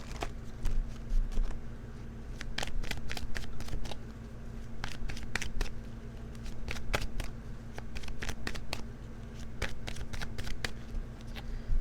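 A deck of tarot cards is shuffled close by, a soft steady riffling rustle broken by sharp repeated snaps as cards fall together, over faint background hum.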